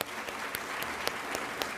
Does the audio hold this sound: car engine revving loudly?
no